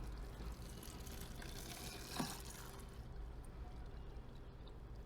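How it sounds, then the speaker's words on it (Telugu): Quiet, continuous trickle of water being poured into a plastic bottle, faint and steady throughout with a brief louder splash partway. "ఈ బాటిల్లో నీళ్ళు నింపేద్దాం ఇట్లా"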